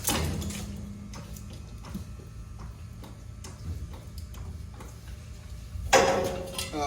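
A hydraulic jack is pumped to lift a heavy machine before a tire change, making a steady series of soft, evenly spaced clicks and knocks, with a louder clatter near the end.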